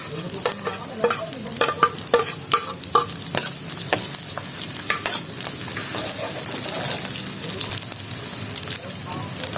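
Garlic and onion fry in a pan for chicken liver and gizzard adobo, a steady sizzle broken by sharp scraping stirs, clustered early then settling into continuous frying.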